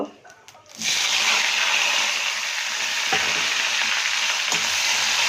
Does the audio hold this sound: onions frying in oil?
yes